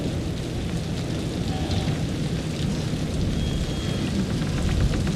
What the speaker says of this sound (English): Heavy downpour, I see.